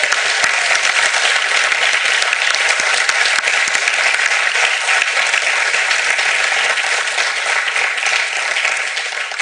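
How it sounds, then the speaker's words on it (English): Applause at a graduation ceremony, a large audience clapping loudly and steadily throughout, easing slightly toward the end. "Let's give them all a round of applause for their dedication."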